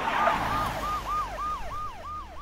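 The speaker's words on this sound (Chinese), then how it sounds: "这时几辆警车朝他们开了过来" Police car sirens, a rising and falling wail repeating about twice a second, loud and fairly near over a low rumbling background, alone with no voices.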